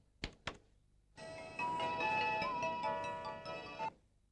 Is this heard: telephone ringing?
yes